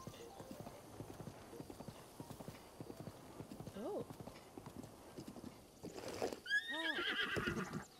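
Horse hooves clip-clop steadily in Breath of the Wild, followed by a loud whinnying neigh near the end, with brief exclamations from a player over the game sound.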